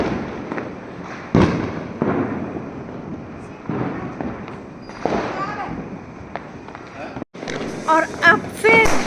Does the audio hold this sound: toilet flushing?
no